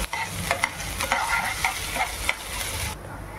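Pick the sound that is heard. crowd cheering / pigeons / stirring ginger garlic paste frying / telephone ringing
stirring ginger garlic paste frying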